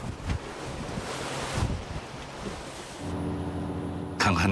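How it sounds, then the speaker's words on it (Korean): Heavy seas pound a fishing boat off Marado in strong wind, a loud continuous roar of crashing surf and spray buffeted by wind noise, surging and breaking with a sharp burst near the end. "세찬 파도가 물보라를 일으키며 쉼없이 쏟아지는데요"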